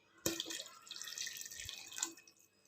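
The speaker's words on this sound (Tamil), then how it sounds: "இந்த டைமில் நம்ம தேங்காய் பால் விடலாம்." Coconut milk is poured into a bubbling clay-pot fish curry, giving a brief close liquid splash and trickle that fades after a couple of seconds.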